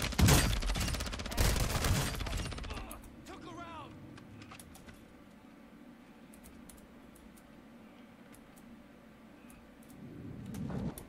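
Heavy bursts of submachine gun fire from the Vel in Call of Duty Warzone open the clip, loud and rapid. Faint game ambience and scattered clicks follow, and a final burst of gunfire rises near the end.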